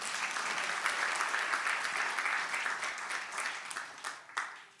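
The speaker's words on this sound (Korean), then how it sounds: "다시 한번 박수 쳐줘요" Sustained applause from a church congregation, dense and steady throughout before thinning out near the end.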